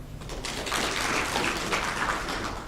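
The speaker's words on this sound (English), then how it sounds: "A clap." An audience at a Kenyan media launch for a free race claps steadily. The dense patter of many hands stays fairly faint and distant, and no voices break through.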